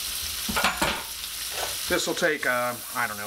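Onions frying in a pan, giving a soft sizzle beneath a person talking close by.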